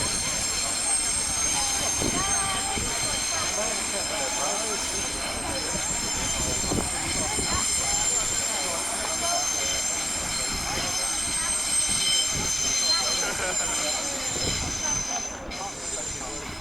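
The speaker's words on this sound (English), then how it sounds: "Oh look, it's the Eurostar." A Eurostar train passing Ashford train maintenance depot, a sustained broad rumble and rail roar that stays steady for a long stretch and eases slightly near the end; no talking.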